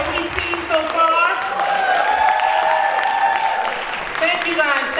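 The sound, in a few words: audience applause for all the poets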